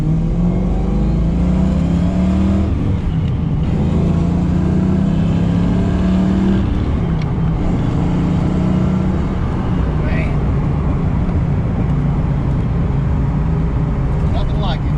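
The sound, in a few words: car engine running and accelerating on first drive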